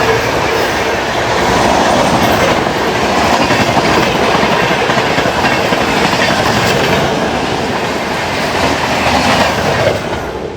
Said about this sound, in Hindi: पुणे से आ रही Pinakini express MGR Chennai central से इधर विजयवाड़ा को जाने वाली